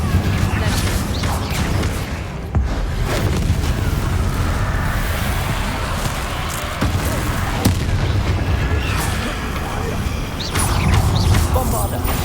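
Incendio fire spells are cast in the video game Hogwarts Legacy during a fight with Inferi, giving loud booming bursts and crackling blasts over continuous rumbling battle noise.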